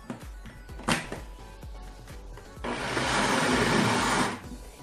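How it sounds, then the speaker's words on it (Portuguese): A blender whirs loudly and steadily for about two seconds, mixing a Maria mole ice cream base diluted as directed. A few soft thumps come before it, and it cuts off abruptly. "vamos colocar também no liquidificador"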